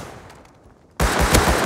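After a quiet stretch, a sudden loud burst of rapid gunfire from the Rust survival video game erupts and keeps going as close, sustained shots.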